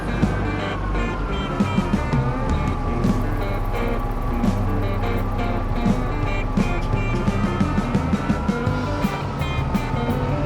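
A big farm tractor's diesel engine runs steadily at close range, a low continuous rumble with a faint rising and falling tone and occasional clanks and knocks over the top.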